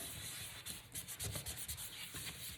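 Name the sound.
rubbing Distress Oxide Vintage Photo ink onto paper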